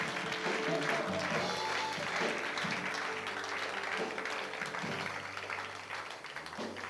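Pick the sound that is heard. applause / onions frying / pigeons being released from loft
applause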